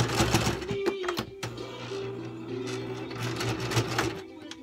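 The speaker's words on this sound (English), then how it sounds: "I do a front stitch and then a back stitch, so it entwines and it closes itself so it doesn't unthread." A sewing machine stitches chair upholstery fabric seams, running in short bursts with a steady mechanical whir and rapid needle clatter, close by, with occasional pauses.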